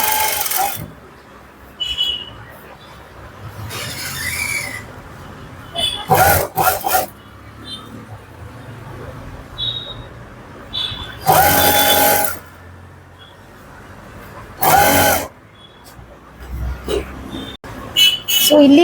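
An electric sewing machine stitches a seam on pants in several short bursts of rapid whirring, separated by pauses in which a person speaks.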